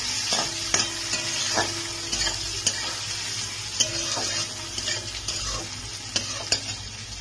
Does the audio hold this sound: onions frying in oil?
yes